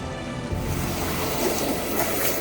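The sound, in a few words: creek water flowing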